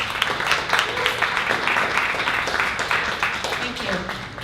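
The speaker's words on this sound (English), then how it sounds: "All right, let's do a round of applause for Steve." Audience applause for a presenter named Steve at a 1 Million Cups Dallas startup meetup, a steady, dense patter of clapping lasting several seconds with some voices mixed in.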